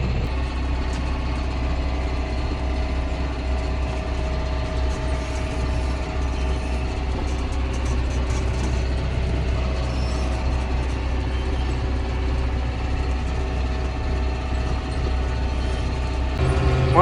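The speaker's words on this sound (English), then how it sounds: "One thing I do love about this tractor is it will move down the road." A 6430 tractor driving down the road at speed, a steady low engine drone with continuous road and cab rumble, close and even throughout.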